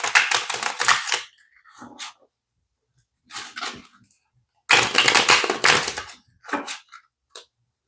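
Tarot cards being shuffled in several bursts of riffling and flicking, with brief pauses between bursts and some soft handling noises.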